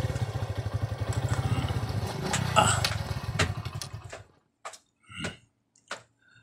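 A motorcycle engine runs close by with a steady, rapid putter for about four seconds, then cuts out, leaving a few scattered clicks and knocks in the quiet.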